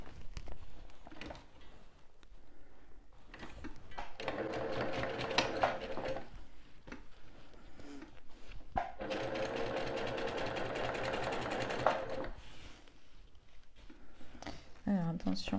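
A domestic sewing machine stitches the lining of a zippered fabric pouch in two long, steady runs of rapid mechanical whirring, separated by brief pauses with handling noise.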